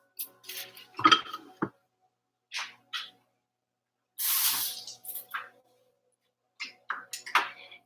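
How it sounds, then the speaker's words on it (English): Pans and utensils clink and scrape while a veggie stir fry is cooked in a home kitchen, in short bursts of clatter and a brief hissing rush, close by and separated by pauses. "I'm just making a veggie stir fry."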